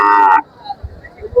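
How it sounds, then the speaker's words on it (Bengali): Cattle at a busy cattle market, one loud close moo lasting under half a second, followed by quieter low rumbles and background noise. "এখানে অনেকগুলো গরু দেখতে পাচ্ছি চমৎকার"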